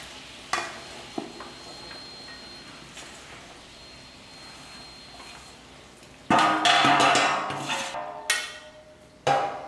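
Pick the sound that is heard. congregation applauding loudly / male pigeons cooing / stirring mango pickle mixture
stirring mango pickle mixture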